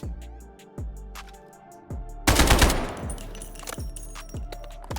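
Gunfire from a G3 battle rifle in the shooter game Delta Force, with sharp single shots spaced at a steady pace and one louder, denser burst in the middle that rings out before more evenly timed shots follow.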